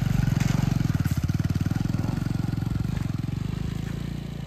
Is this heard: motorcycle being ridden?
yes